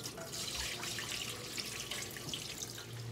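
Water runs steadily into a sink as sticky rice is rinsed, a soft continuous splashing and trickling at low level with no talking.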